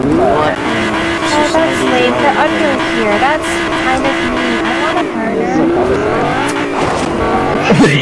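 Car engine in the Fortnite video game, steady motor drone with shifting pitch and some tire noise, loud and continuous under a talking player.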